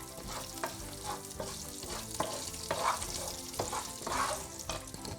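Spices and crushed peanuts fry in hot oil for Tamil lemon rice, a steady dense sizzle with occasional louder crackling bursts and faint spoon stirring, close and alone without speech.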